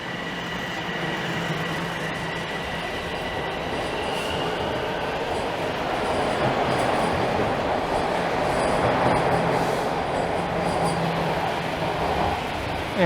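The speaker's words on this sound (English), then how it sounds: "there's a small subway rail yard just over on that end" A Toronto subway train rumbles through the Davisville rail yard in a steady, moderately distant roar with wheel clatter, slowly swelling louder and ending in a brief squeal, with no talking.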